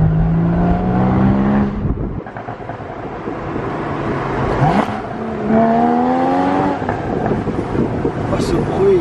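Porsche Boxster Spyder engines rev and whine through rising gear changes, close and loud, as someone talks over the racing noise.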